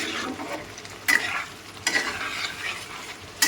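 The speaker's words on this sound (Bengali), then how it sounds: "এবার মশলা আর আলু ভালো করে মিশিয়ে নেব।" Masala and potatoes for chicken biryani are stirred and sautéed in a pan, with a soft sizzle broken by three sharp scraping stirs of a spoon against the pan.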